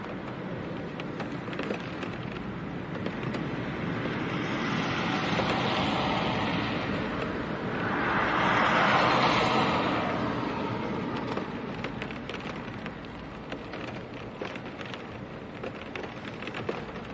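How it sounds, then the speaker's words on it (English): Strong gusting wind with rain at Leeds Bradford Airport in wet, windy weather with 50 mph winds, a steady broadband roar that swells and peaks midway before easing slightly, with no voices. "But the wind is definitely getting stronger."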